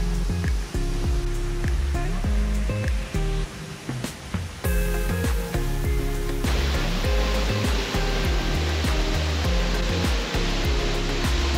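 Steady roaring rush of the Kvernufoss waterfall in Iceland, heard from behind the falls, loud and close, running the whole time beneath background music.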